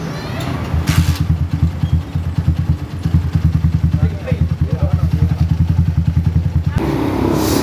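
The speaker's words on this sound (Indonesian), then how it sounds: "kali ini di depan kita ini ada motor CB" A Honda CB motorcycle that is hard to start, won't hold a steady idle and jerks when ridden runs close by with rapid, even firing pulses for several seconds before cutting out near the end.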